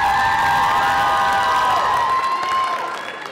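An audience at a school singing-idol show cheers and applauds for a student singer as she is welcomed, a loud, dense wash of clapping and whoops that fades slightly toward the end.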